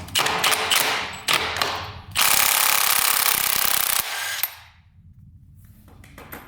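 A power tool spins off the swing arm nut on a two-stroke dirt bike: loud, close bursts of whirring and rattling, one long sustained run in the middle, then quiet with faint rustling.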